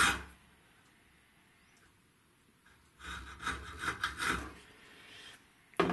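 A file works the metal between slots on a flintlock pistol, a quiet scraping that starts faint and then rises into a run of rhythmic rasping strokes at close range.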